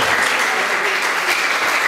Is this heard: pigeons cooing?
no